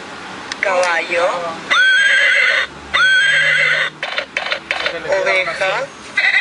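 An educational toy telephone with lights, animals, shapes and numbers plays a loud electronic horse whinny, with several shrill, shaky neighs in quick succession.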